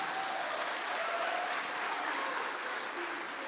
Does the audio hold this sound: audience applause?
yes